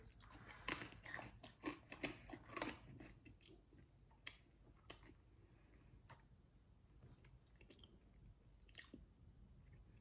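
Someone bites into sugar-coated Russian ring biscuits, with several sharp, close crunches at first, then softer, sparser chewing and crumbling in a quiet room.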